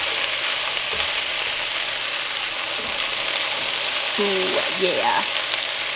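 Gnocchi fry in a hot pan with a steady, close, broadband sizzle throughout, joined near the end by a short utensil scrape and a brief voiced murmur.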